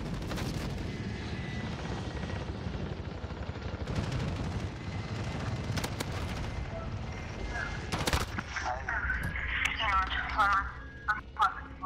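M4 rifle bursts in the video game Modern Warfare, sharp rapid gunfire crackling in clusters under a player's continuous voice-chat talk, with game effects and chatter toward the end.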